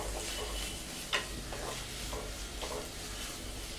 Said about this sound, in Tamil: இதை வந்து நம்ம நல்லா ஃப்ரை பண்ணிக்கலாம்